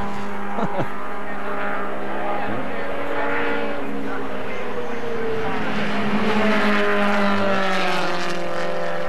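An F Production race car at a 1980 national championship comes down a hill, its engine note rising and shifting across several seconds from a distance, with a crowd-like background and some faint voices.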